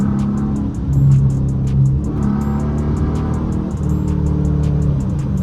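A Dodge Charger R/T V8 from the seventh generation, heard from inside while driving: a loud, low engine drone that swells and falls with gear shifts, continuous and close, alone without talk.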